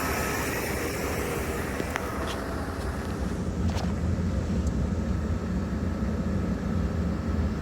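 A campervan's AC compressor runs with its clutch engaged, giving a steady, broad mechanical hum and airy whoosh that holds constant, with a few faint clicks near the start.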